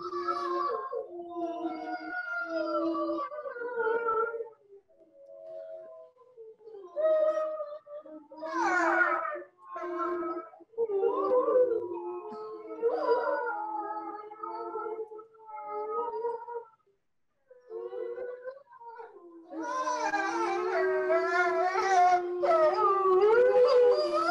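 A wolf howls in long, wavering, rising and falling calls from an outdoor enclosure, with overlapping howls building louder and denser toward the end, heard alone without talk.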